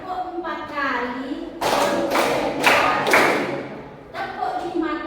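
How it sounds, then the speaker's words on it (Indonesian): A group of people clap hands four times in an even rhythm during a classroom activity, loud broadband bursts, with talking before and after. "Tepuk empat kali."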